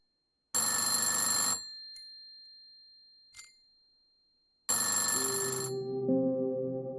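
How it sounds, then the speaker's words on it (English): Two loud, bright rings of a telephone in the Centum video game, about a second each and separated by a few seconds of near silence, the second followed by low tonal game music. "Do we pick up the phone?"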